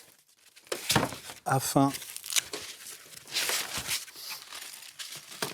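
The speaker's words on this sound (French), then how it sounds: "Et lorsqu'il est livré, il vous suffit en fait après de le déballer" Crinkling and tearing of packaging as a delivered product is unwrapped, a string of close, sharp rustles and rips, with a voice speaking briefly over it.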